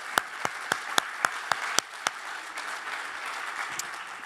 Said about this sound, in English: Round of applause for our 5 years.